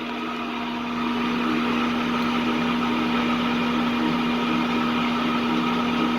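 A Rockwell 14-inch lathe turns in back gear at its slowest 40 rpm setting, giving a steady, even motor hum with a strong tonal drone that rises slightly after the first second and then holds constant, with no talking.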